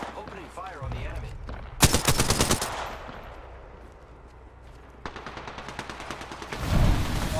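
Bursts of rapid automatic gunfire from the Apex Legends video game, one sharp volley early and another steady rattling stream later, loud over background game sounds.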